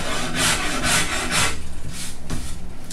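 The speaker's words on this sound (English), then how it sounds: "And here's that 200 millimeter number 11. Wonderful rasp." A 200 mm number 11 rasp scrapes along a wooden guitar neck in close, loud rhythmic strokes, about six rough rasping passes in quick succession.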